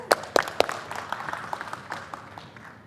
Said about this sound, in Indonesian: Beri tepuk tangan buat mereka yuk.